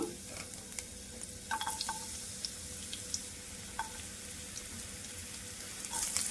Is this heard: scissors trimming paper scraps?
no